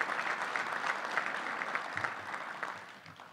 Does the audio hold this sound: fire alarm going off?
no